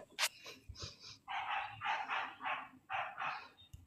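A dog barks repeatedly in quick bursts, a series of sharp, moderately close yaps in an uneven rhythm with short pauses, heard alone without talking.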